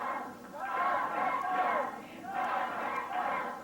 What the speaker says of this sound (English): Crowd getting in behind Dutch Mantell